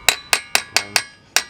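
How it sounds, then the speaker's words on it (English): A hammer strikes a block of wood to drive the axle back out of a Ford Fusion wheel hub, giving six sharp, evenly spaced knocks, loud and close, with no talking. "we're gonna go ahead and get a piece of wood and a hammer, and we're gonna knock it backwards"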